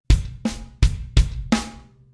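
Five sharp drum kit hits land in a steady paradiddle pattern with bass drum on every right hand, each with a deep thump and a short decaying ring, close and clear with no voices.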